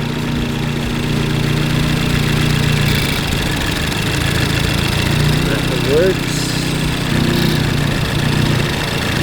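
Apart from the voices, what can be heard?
Ford Focus ST engine running during fuel injector test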